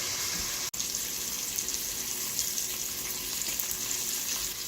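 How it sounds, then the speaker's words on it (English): Prosciutto slices fry in a pan with a steady, close crackling sizzle that runs continuously, broken only by a brief dropout near the start. "We want them to get real nice and crispy, so we're frying them on both sides."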